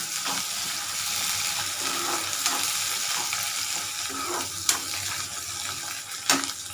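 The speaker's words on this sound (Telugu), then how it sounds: "యాడ్ చేసి కరివేపాకు కూడా కొంచెం యాడ్ చేసుకుంటాను." Onions fry in a pan with salt and a handful of curry leaves. A loud, continuous sizzle runs throughout, broken by occasional sharp stirring clanks against the pan.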